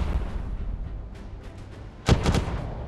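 Steady background rumble from the game Warships Mobile 2, then a sudden loud naval cannon blast with a quick crackling follow-up near the end.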